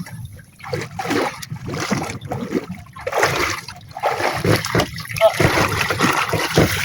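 Someone bathing outdoors in clear water sends up irregular bursts of splashing and trickling, close by, with voices chatting throughout.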